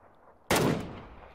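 A single sharp gunshot cracks out in a shooting video game, loud and close, with a short decaying tail and no talk over it.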